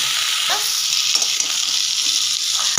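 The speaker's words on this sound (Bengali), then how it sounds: "কচু 2 থেকে 3 মিনিট মতো ভেজে নেব।" Taro and potato frying in hot oil, a steady, loud sizzle filling the whole stretch with a few faint stirring scrapes, no voices.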